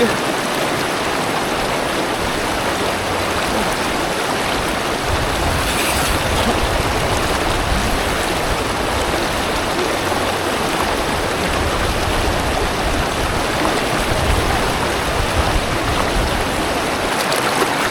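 Steady, broad rushing of a flowing river fills the whole stretch, continuous and fairly loud without pauses.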